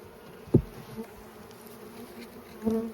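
Honey bees buzz around a freshly opened hive during the first spring inspection, a constant close droning hum with a few individual bees zipping past the microphone, and no talk.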